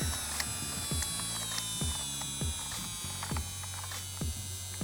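An electric nail drill runs at full speed with a steady high motor whine, with regular ticking clicks repeating throughout.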